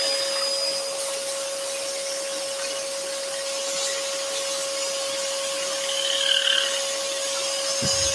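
A scroll saw cuts wood for a lantern with a steady mechanical hum and a constant tone, while faint rasping from the blade biting the wood shifts through quick changes in direction.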